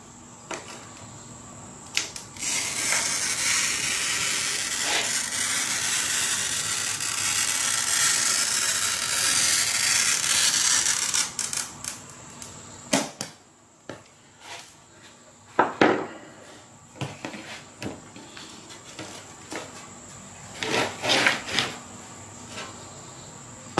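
A saw blade cuts through a sheet of glass for a picture frame, making a steady, bright grinding hiss for about eleven seconds. Then it breaks into scattered clicks and short scraping bursts.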